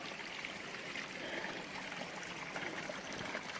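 A small waterfall with little water flowing, likely a series of steps, trickles and splashes in a steady, even rush heard alone outdoors.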